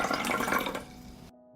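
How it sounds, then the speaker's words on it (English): 250 ml of water poured into a pot for sage tea: a close, splashing liquid stream that tapers off and stops, leaving a faint hum. "I pour 250 milliliters of water."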